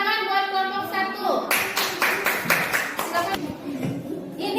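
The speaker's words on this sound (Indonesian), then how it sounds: "Tepuk tangan buat kelompok 1." A classroom of children clapping for a student group, with several short bursts of claps mixed with a held tone and voices at the start, fairly close and uneven in rhythm.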